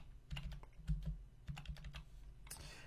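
Keyboard typing while test Stripe card billing details are entered into a checkout form: quick irregular bursts of keystrokes, fairly close and moderately quiet, with no talking.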